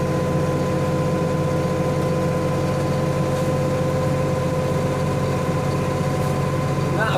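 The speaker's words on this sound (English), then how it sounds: "Move the hand throttle up a bit." An engine idles at a slightly raised speed with its hand throttle moved up, a steady close drone with an even low rumble and faint mechanical whine that does not change throughout.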